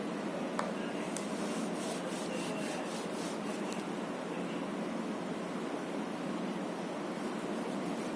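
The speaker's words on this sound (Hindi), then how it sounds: "मैं इसको रब कर रहा हूँ" Steady soft rubbing as a board is wiped clean during a maths lesson, a continuous close scratchy friction sound with a few faint taps near the start and no speech.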